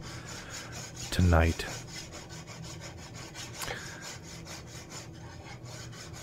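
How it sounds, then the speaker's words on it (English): Hand-filing a steel blade at a blacksmith's bench gives a steady, close rasping scrape in repeated strokes, with one louder, heavier pass near the start. "More filing, more filing."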